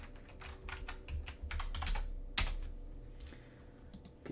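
Clattering keystrokes on a computer keyboard in a home workshop setup, a close, irregular run of taps and clicks with a couple of sharper louder hits, no talking.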